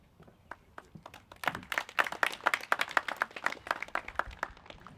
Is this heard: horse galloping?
no